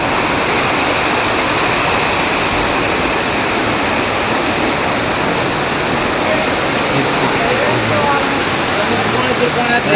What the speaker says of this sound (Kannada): ಈಗ ಮಳೆ ಆಗ್ತೈತೆ ನೋಡ್ರಿ